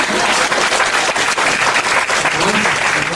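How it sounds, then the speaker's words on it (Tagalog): Steady audience applause fills a hall at a sales or networking seminar, dense and continuous clapping from many hands for the full stretch, loud and close with no pauses. "Tuloy mo palakpak mo."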